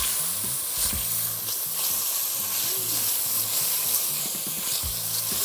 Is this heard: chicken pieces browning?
yes